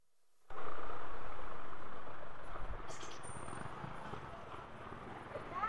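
Busy Pasig street traffic heard from a motorbike in the Philippines: a loud, sustained engine and road roar that swells then eases, with a brief high squeal and a horn-like tone mid-way.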